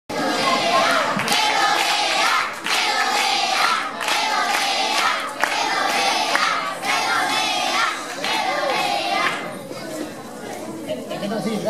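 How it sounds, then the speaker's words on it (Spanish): At a school Christmas party in Arcos de la Frontera, an audience in a hall gives loud, sustained clapping and cheering in several surging waves, with children's shouts mixed in before the noise thins toward the end. "Un fuerte aplauso para ellos."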